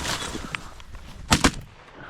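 Shotgun fire at birds over a freshly cut field, two sharp loud blasts in quick succession after a softer distant pop, with outdoor rustle around them.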